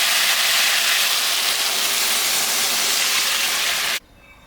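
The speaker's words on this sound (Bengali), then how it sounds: "লাউটা কষানো হয়ে গেছে, এখন আমি জল দিয়ে দিই।" Water poured into a pan of fried bottle gourd gives a steady, loud rushing hiss that holds for about four seconds, then cuts off abruptly to quiet.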